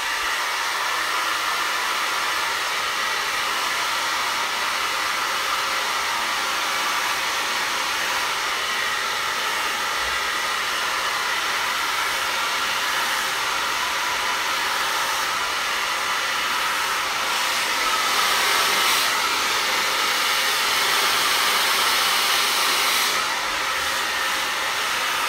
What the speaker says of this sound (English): why you need this cool button on your blow dryer